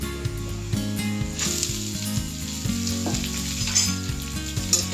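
Chopped long beans tipped into a hot pan of oil for a Kerala payaru thoran, sizzling and frying steadily with a few stirring scrapes, close and continuous, no talk.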